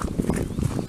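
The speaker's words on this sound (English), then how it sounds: "there's another horse again." Horse hooves clip-clop on a woodland path, a steady muffled walking rhythm of close, soft thuds throughout the brief moment.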